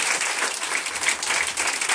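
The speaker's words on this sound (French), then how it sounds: "Est-ce qu'on peut acclamer Jésus?" A church congregation applauding and cheering Jesus at a prophet's gathering, dense continuous clapping filling the space, loud and sustained.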